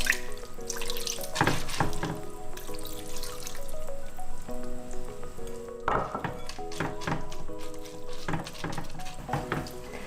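Water pours and splashes into a pot of glutinous oil rice, a continuous trickling stream broken by a few dull clunks, heard close.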